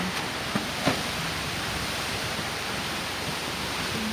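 Steady hiss of rain with a soft wind rush in a village, broadband and unbroken, with a couple of faint knocks early on.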